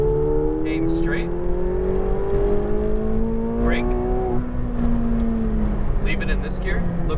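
A McLaren 720S at the Exotics Racing circuit in Las Vegas accelerates hard, the engine pitch rising through several gears with sudden drops at each upshift, loud and close from the cabin.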